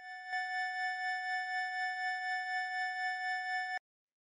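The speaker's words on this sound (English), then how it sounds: "I've just got these four sine waves here doing some FM." A steady synthesized FM tone built from four sine waves with an LFO gently pulsing the volume, held for about three and a half seconds before stopping abruptly, part of a melodic techno sound design.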